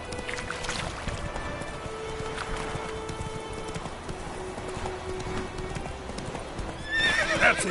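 A horse moves at pace in The Witcher 3 under a steady bed of game ambience, with its hoofbeats blending into continuous movement noise and a brief louder flourish near the end.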